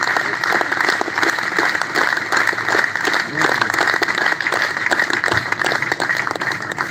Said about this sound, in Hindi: मैं चाहता हूँ एक बार जरा मंत्री जी के लिए बड़ी वाली ताली बजाएं।